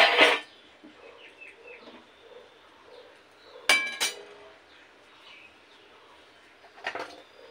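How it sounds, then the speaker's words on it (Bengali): A metal kadai wok is set on a gas stove in a home kitchen, giving a few sharp, close metallic clanks: one at the start, a quick double knock midway and a last clink near the end, with quiet gaps between. "গ্যাসে কড়াই বসিয়ে দিলাম।"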